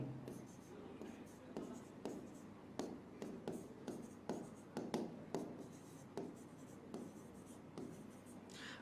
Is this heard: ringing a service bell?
no